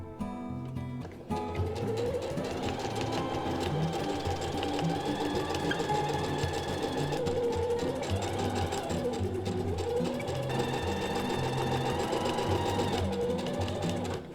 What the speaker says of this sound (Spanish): paráis la máquina con la aguja clavada, levantáis el prensatela, acomodáis un poco la tela y seguís cosiendo